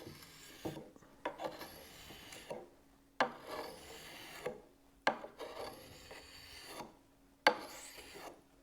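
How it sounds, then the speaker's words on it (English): A hand file rasps along the steel blade of a pruning tool in steady back-and-forth strokes, about eight close, dry scraping passes with short pauses between them. "And sharpening this is exactly the same as with the secateurs."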